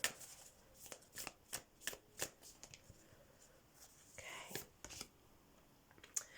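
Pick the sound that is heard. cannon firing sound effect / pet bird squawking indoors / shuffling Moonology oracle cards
shuffling Moonology oracle cards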